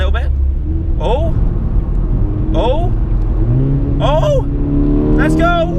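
Engine of a 2010 Seat Ibiza Cupra revving up in sharp bursts as paddle downshifts blip the throttle, rising whines repeating about every second over a loud steady road and cabin drone.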